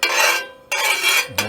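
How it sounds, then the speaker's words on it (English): Oil is stirred around a cast iron pan over a gas stove outdoors, giving bright metallic scraping strokes in two close, loud bursts with a short pause between and another scrape starting at the end. "Stir it around a little bit."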